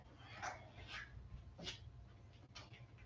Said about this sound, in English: This is my goodest boy, Jasper.